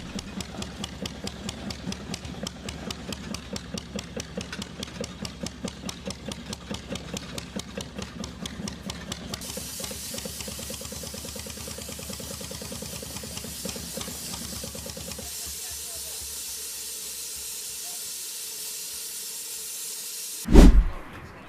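An old engine runs roughly with an uneven, pulsing beat and a bright steady hiss of escaping steam or vapor that builds midway, then the engine fades, leaving a quieter hiss and one sharp knock near the end.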